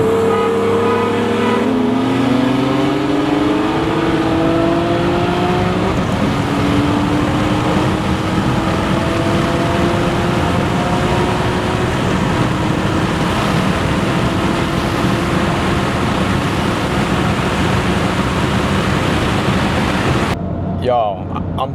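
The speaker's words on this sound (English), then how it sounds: "I can hear his turbo spooling." A BMW M3 running on E85 accelerates hard with rising engine tones and a turbo spooling, heard loud and continuous from inside or near the car, with a sudden drop at the very end.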